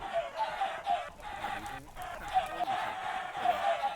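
Several Minecraft chickens clucking in quick repeated bursts, a busy overlapping chatter of birds at moderate volume, with no voices over it.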